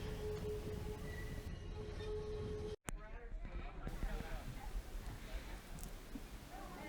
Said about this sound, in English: It's about a 4 kilometer ride, I believe, this train, so it's well worth it.